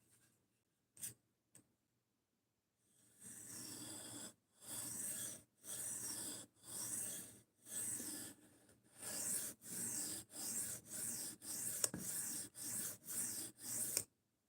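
A D2 steel blade gets a high-grit finish, sharpened with a dozen or so quiet, even back-and-forth rasping strokes in a steady rhythm after a few faint taps.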